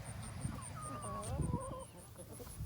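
Chickens cluck and murmur around the barns on a hot day, several birds close by making soft, repeated clucks over a faint background hum and a steady high-pitched chirping.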